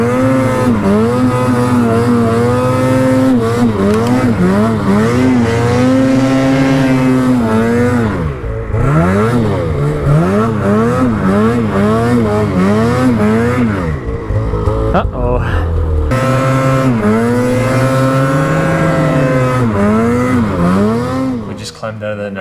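Snowmobile engines climb a mountain, loud and close, revving and rising and falling in pitch almost without a break, with throttle changes and occasional dips as the machines work uphill.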